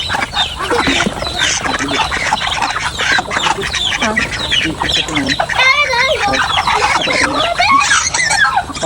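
Chickens cluck and squawk close by on a rural Philippine farmstead, a busy continuous chorus of overlapping calls with bits of speech mixed in.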